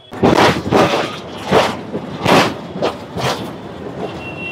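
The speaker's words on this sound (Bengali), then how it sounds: "150 বছরের ইতিহাস নিয়ে কলকাতার রাস্তায় রাস্তায় রাজত্ব করে বেড়াচ্ছে এই ট্রাম" A Kolkata electric tram rolling along street rails, heavy rumbling bursts and clattering wheel passes rising and falling in a loud, close, rhythmic series.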